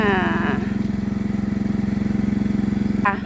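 A motor tricycle (saleng) engine idles with a steady low throbbing pulse close by, someone talking over it, with brief higher whirring at the start and near the end before it is switched off by remote.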